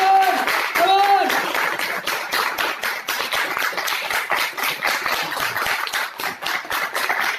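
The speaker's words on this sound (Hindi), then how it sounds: "मैं चाहूंगा एक बार जोरदार तालियां हो जाए" A seminar audience breaks into loud, sustained applause, with dense rapid clapping throughout and a voice briefly audible over it near the start.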